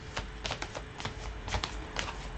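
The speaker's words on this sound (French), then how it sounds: "je tire pour comprendre ce qui se trame un peu" Tarot cards are shuffled for a card reading, a close, quiet run of crisp riffling bursts in an irregular rhythm.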